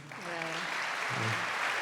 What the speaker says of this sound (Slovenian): Aplavz pove vse.